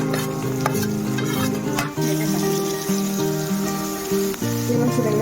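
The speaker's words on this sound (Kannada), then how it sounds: "ಈಗ ಈ ಆನಿಯನ್ ಫುಲ್ ಬ್ರೌನ್ ಗೋಲ್ಡನ್ ಕಲರಲ್ಲಿ ಆಗೋವರೆಗೂ ಫ್ರೈ ಮಾಡ್ಕೊಳ್ಬೇಕು ನಾವು" Onions fry in hot oil with whole spices for biryani, a steady sizzle under a loud, sustained musical background, with occasional stirring scrapes.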